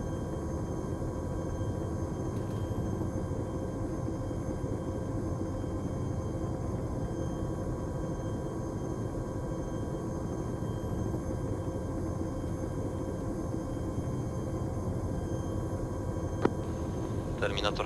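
A helicopter in the video game Arma, heard as a continuous, even droning rumble of rotor and engine that holds steady for the whole stretch at moderate loudness.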